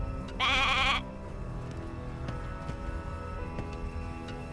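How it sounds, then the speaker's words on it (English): A single nasal sheep bleat from the video game Divinity: Original Sin 2 rings out for about half a second, then only a quiet background hum with faint ticks remains. "Hey, a sheep!"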